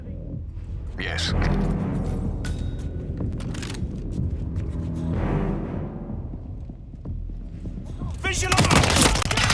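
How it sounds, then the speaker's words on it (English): Bursts of gunfire ring out in the Hitman World of Assassination video game, scattered loud shots and rapid volleys mixed with game ambience, while voices talk over the action and a heavier barrage erupts near the end. "We have gunshots in the vicinity."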